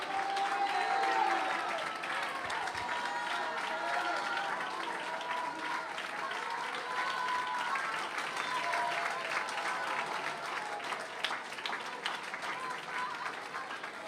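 A church audience at a Malayalam Christian sermon claps in steady, dense applause. It holds at an even level for about fourteen seconds with light crowd noise underneath.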